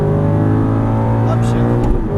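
Aston Martin V8 Vantage engine pulling hard on a racetrack, a loud steady drone close by with a brief rise near the end, heard under continuous talk.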